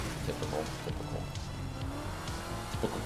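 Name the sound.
car driving and tire squeal in a racing video game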